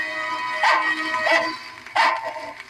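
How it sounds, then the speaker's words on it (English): A dog barks in an old storybook cottage by a roadside in the ancient land of Leda, giving three sharp, fairly loud barks spaced about a second apart, with no voices over them. "Stop your barking."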